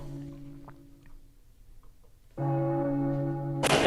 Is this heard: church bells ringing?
yes